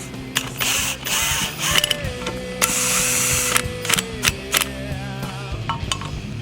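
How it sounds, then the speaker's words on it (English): Mechanical clicks, ratcheting and metallic clanks from hub work on a new brake rotor of an Isuzu, with a steady tonal whine running through, loud and close in uneven bursts. "here they're putting the hub onto the new rotor"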